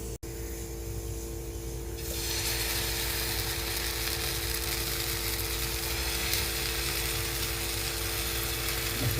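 Uttapam batter hits hot oil on a tava, with a sudden loud sizzle starting after a quiet moment and then holding as a steady, close frying hiss.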